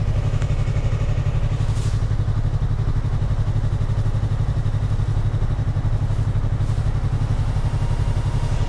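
Yamaha R3 motorcycle engine running loud and close with a steady rough throb, revving in a sustained drone with faint clatter, no talk over it.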